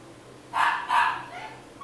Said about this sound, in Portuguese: um cachorro filha da mãe latindo